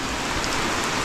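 Light rain falls in a steady, dense hiss of drops on surfaces, close and unbroken, with no talking.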